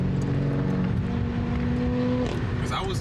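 A BMW car with a loud exhaust revs nearby, its engine drone holding steady tones before a rising whine near the end, while people talk over it.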